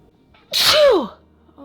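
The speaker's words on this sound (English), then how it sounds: "I feel like I have to sneeze again." A single close, loud sneeze from a woman indoors, a sharp burst with a sweeping voiced cry, standing alone against near silence.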